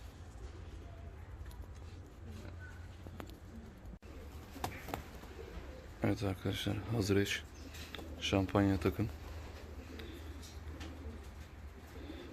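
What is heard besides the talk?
fancy and costume pigeons cooing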